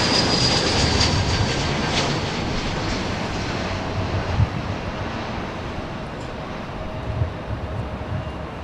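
A jet on approach to runway 24 right at LAX at golden hour makes a broad, steady engine roar that holds loud and constant throughout, with no voices over it.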